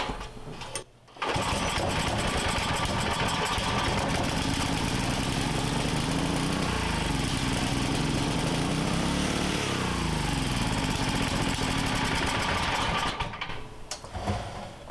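A small engine that sat unused for ten years, with a stuck governor, catches after a brief pause and then roars continuously at full throttle for about twelve seconds before cutting out near the end.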